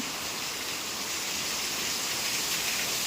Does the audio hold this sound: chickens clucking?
no